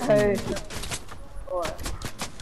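Rapid bursts of rifle fire in a video game crackle in quick succession over game sounds, with a voice briefly speaking in between.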